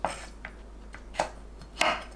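Garlic scapes being chopped with a knife: three or four sharp, separate cuts on a board, close by, with quiet pauses between.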